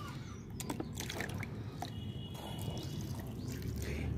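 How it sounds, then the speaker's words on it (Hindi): Water poured a little at a time from a container into grow bag soil around transplanted chilli seedlings, a soft irregular trickle and splashing over a quiet background. "पानी डाल दूंगी"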